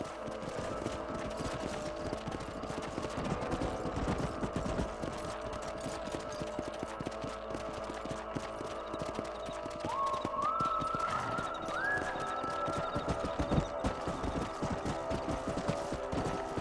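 Horses' hooves in Red Dead Redemption 2 make a steady, dense clatter of galloping under continuous outdoor game ambience, with a brief rising tonal sound partway through.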